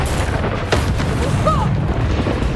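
A Bombarda spell goes off in the Hogwarts Legacy video game as a heavy, deep boom, close and loud, amid a rumbling game soundscape with a brief whooshing tone.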